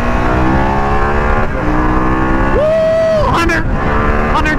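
Harley-Davidson Pan America 2021 motorcycle engine pulling hard in fourth gear, a loud sustained drone with steady rising harmonics, heavy wind rush throughout and a short shift-like dip midway.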